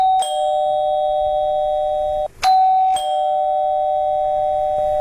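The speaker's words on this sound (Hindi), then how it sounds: "और तभी डोरबेल बजी।" An electronic doorbell rings twice, each a loud sustained tone with a sharp attack, separated by a brief gap.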